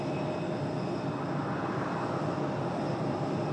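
A United Boeing 737 MAX 8 jet roars steadily at an airport, a dense broadband engine rumble with a faint high whine and no voices.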